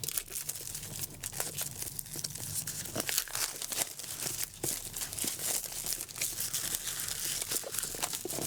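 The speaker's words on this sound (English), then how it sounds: "So here is the box, all shrink wrapped up. Carefully pop it open." Shrink wrap crinkles and tears as a 4K edition movie box is opened, with steady, close crackling and rustling that continues throughout and has no talk over it.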